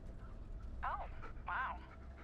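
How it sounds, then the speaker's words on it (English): A dog pants loudly and close by, two raspy bursts of breath rising over a steady background hiss, as if right at the ear of someone walking in the woods. "all I hear is that fucking dog breathing in my fucking ear right now"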